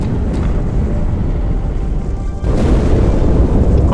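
In a Halo game, a loud, dull boom of an explosion aboard the ship Athens hits at about two and a half seconds, its rumble hanging over a steady low roar of engines and wind.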